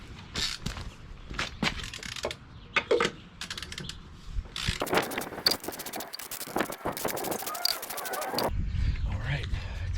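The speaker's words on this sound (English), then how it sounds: "grab my torque wrench. These tighten up the smooth before we drop it." A torque wrench tightens a wheel on a 2020 Jeep Gladiator during a rear brake pad job, sharp ratcheting clicks coming in short irregular bursts near the listener, mixed with someone talking.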